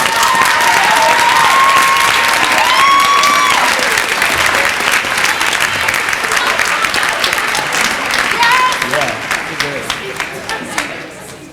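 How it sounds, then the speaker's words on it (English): Audience at a high school spring orchestra concert applauds the orchestra director, a dense, sustained wash of clapping that stays loud for most of its length before thinning and tapering off at the end. "Let's give him a round of applause."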